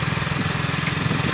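A motorcycle engine runs close by with a loud, steady, pulsing drone.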